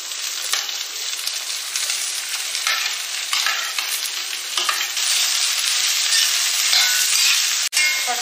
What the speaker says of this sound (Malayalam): ഞാൻ അതിലേക്ക് കുറച്ച് സവാള അരിഞ്ഞത് ഇട്ട് കൊടുക്കുകയാണ്.